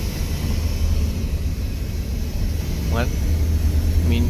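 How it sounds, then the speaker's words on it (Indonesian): A steady low engine hum and rumble sound from inside a quiet double-decker bus, with a constant drone underneath. People talk briefly over it. "Nggak ada yang bunyi-bunyi, mesin aja yang bunyi."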